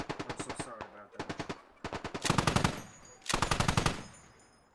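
A .50 caliber machine gun fires in the video game Squad, loud and close, in several rapid bursts of rhythmic shots separated by short pauses.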